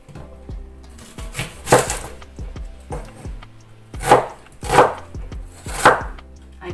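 A knife chops red onion on a cutting board in irregular bursts of close, crisp knocks, some quick runs of taps and a few louder single strikes.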